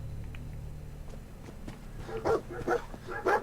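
Dog companion in the Fallout 4 video game, a few soft barks or snuffling yelps close by, with light footsteps through a quiet game soundscape.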